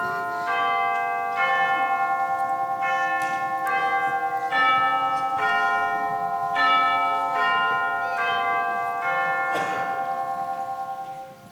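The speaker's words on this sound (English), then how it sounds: "The chimes were ringing" Bells chime in a steady, ringing sequence of struck tones with long sustained overtones, loud and unaccompanied, during a middle school stage production of A Christmas Carol.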